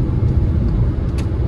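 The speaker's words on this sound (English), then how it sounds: "the sound of the car isn't too loud" Interior road noise from a car driving from Halifax Stanfield International Airport toward downtown Halifax, a loud, steady low rumble of tires and engine with a faint brief tick near the end.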